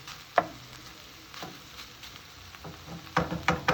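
Meat browns in a pan with a soft, low sizzle, broken by a few sharp scrapes and stirring bursts near the start and toward the end, fairly quiet overall.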